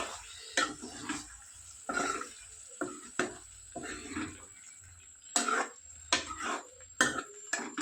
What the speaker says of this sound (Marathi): आता आपण त्याच्यात टाकू हे सोयाबीन